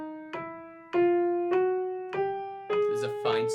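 Piano notes in a chromatic scale, played as quarter notes at 100 BPM: six clear, evenly spaced struck tones rising step by step, each ringing and decaying before the next, up close with no talk.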